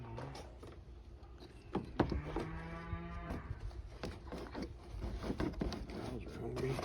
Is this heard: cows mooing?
yes